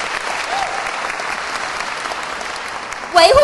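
An audience applauds in a dense, steady wash of clapping, loud and continuous, until a voice cuts in right at the end.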